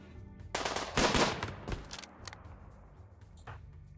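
A bright, rapid burst of gunfire rattles in RimWorld during a tribal fight, the densest volley coming early, followed by a few sparser, fainter shots with pauses between.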